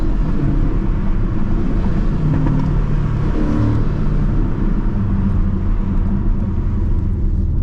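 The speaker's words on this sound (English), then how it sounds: "with that free flow exhaust, you get that amazing just exhaust sounds." Porsche 718 Cayman PDK with a free-flow exhaust, loud and close, its note rising and dropping through upshifts and downshifts in a continuous rumbling run with no talking.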